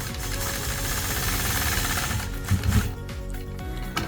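A sewing machine stitching in the ditch along a machine-pieced quilt seam, a dense rapid mechanical chatter, close and continuous, with a slight bump in loudness partway through.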